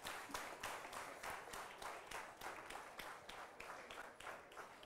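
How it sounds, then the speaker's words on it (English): Audience in a career guidance lecture hall applauding, a fairly quiet but steady stream of many hands clapping with some rhythmic individual claps standing out. "Please give a loud applause"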